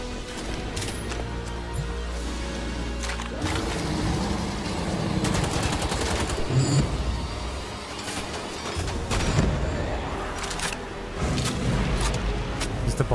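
Sustained game gunfire in Wolfenstein: The Old Blood, with repeated sharp shots and bursts from automatic weapons mixed with crashes and thuds, loud and dense across a chaotic firefight.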